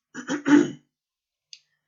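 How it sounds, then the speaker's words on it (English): A short, close cough in two rough bursts, followed by silence and a faint click. "Sorry about the coughing."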